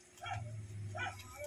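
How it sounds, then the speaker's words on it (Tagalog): Neighbours' dogs barking somewhere nearby, two short yelping barks about a second apart, moderately quiet over a low background hum. "Kahit maingay yung mga aso natin sa kapitbahay."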